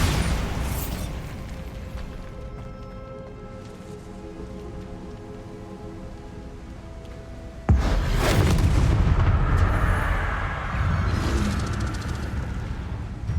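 Bombarda spell explosions go off in Hogwarts Legacy, down in a mine: one heavy, loud booming burst near the start, a sustained rumbling wash, then a second sharp blast partway through that rolls on with crackling debris.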